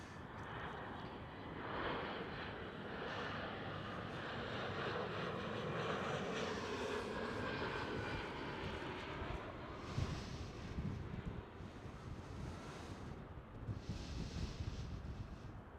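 A KLM Cityhopper Embraer E175 jet at Amsterdam Schiphol gives a steady, broad engine roar with wind buffeting, holding fairly constant throughout, no voices.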